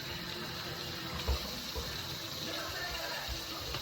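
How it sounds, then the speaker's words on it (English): Water flows through an unclogged dishwasher in a steady, broadband rushing wash, continuous and fairly close, with a faint low thump partway through. "Got water flow now."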